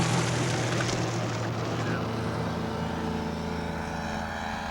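A light aircraft on landing approach during a 1985 coast-to-coast air rally, its steady propeller and engine drone loud and continuous with wind rush, the tone shifting slightly as it descends.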